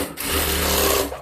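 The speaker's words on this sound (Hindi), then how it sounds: "अभी अंदर की तरफ एक सिलाई लगा दूंगी" A sewing machine runs briefly with a steady, rapid mechanical whir as it stitches fabric for a designer blouse.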